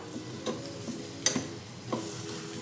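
Unbreaded keto pork chops are turned in an air fryer basket at 390 degrees, giving a few light, sparse clicks and taps against a faint background hum.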